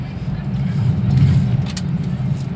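A car cruises at about 40 on a road, its steady low engine hum and road rumble continuous and close, with talk over it.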